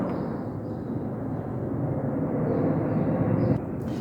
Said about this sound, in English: This is the 3rd plane in still less than 30 minutes